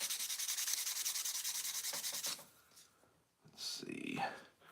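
Sandpaper wrapped around an eraser rubs by hand against a tobacco pipe in quick, even, close strokes for a couple of seconds, then stops, followed by brief handling noises.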